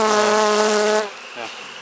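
Honey bees hum at a beehive in spring, a loud, close, steady buzz that cuts off after a second, leaving a fainter drone behind.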